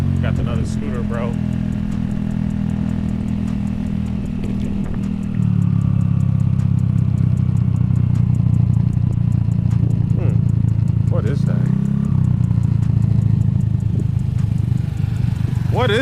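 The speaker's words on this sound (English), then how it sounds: "Got another scooter, bro." A Vespa scooter engine idles and rides close by, a loud steady low drone that swells after a few seconds, with people talking over it.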